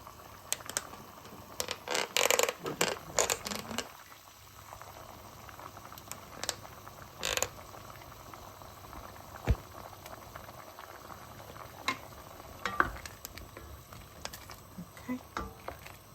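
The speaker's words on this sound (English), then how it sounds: "It's been boiling for a few minutes now." A pot of vegetable okra soup bubbles and pops at a steady simmer, with irregular gurgles and occasional louder splutters close by.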